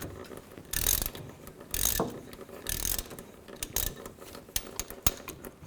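Bolts are tightened on a puller fitted to the rear differential pinion flange of a 2000-08 GMC Yukon, heard as a series of close ratcheting clicks and bursts at an uneven rhythm that grow shorter toward the end, with no talk.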